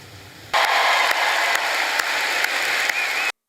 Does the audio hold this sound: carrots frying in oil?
no